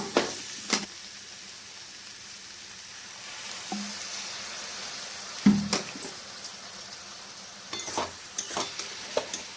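A little water goes into banana flower and prawn lentil curry frying in a pan, giving a soft, low sizzle with a few sharp clicks and scrapes of stirring scattered through.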